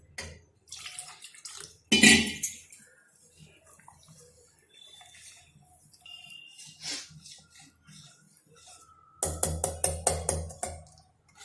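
Water is poured a little at a time into rice flour batter for crispy dhirade in a kitchen. Several separate splashy bursts come between quiet gaps, with the longest, busiest pour near the end and a few light clinks.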